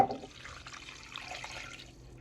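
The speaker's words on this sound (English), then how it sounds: "next, I'm gonna add like two cups of water" Water poured into a crock pot over browned meat, about two cups going in as one steady, soft splashing stream that runs close by and then trails off quietly.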